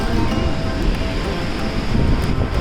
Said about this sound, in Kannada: ಸರಸ್ವತಿ ನದಿ ಆರ್ಭಟ ನೋಡಿ